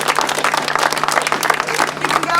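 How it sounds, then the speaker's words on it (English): Crowd applause at a sidecar championship grass track meeting, a brisk, dense spell of clapping from a sizeable audience, steady throughout with a faint hum underneath. "should we just try and do a brief round of applause for Wimborne?"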